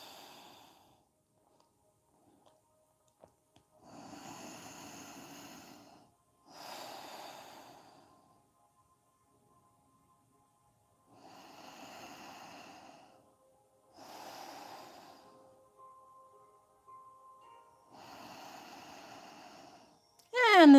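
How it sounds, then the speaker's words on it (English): Slow audible nasal breathing during a yoga session, several long airy inhales and exhales spaced by quiet pauses, close to the microphone with no talk. "Breathing through your nose."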